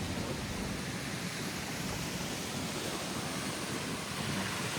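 A waterfall in a casino resort courtyard roars as a dense, steady broadband rush, close and loud throughout, with no talking.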